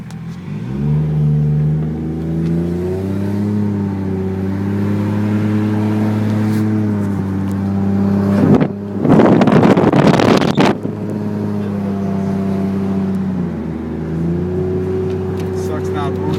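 A tuned Toyota Supra driven with the boost not working hums steadily with engine harmonics rising and falling, then throttles up loudly with a roaring, wind-buffeted surge midway before settling back to a cruising drone.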